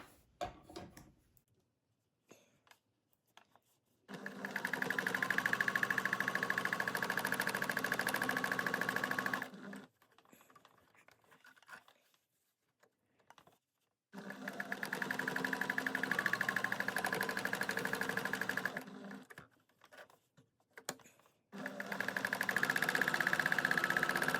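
A sewing machine doing machine embroidery on a felted lampshade runs in three long, steady bursts of even mechanical whirring, close and loud, separated by quiet pauses with faint handling clicks.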